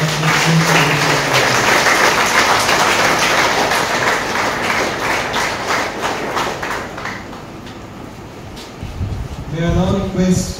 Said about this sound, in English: Let's have a round of applause for the acknowledgement